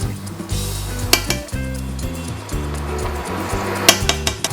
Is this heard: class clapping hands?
no